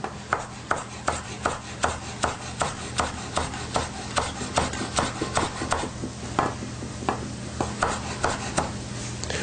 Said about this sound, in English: I'm going to chop some mint really quick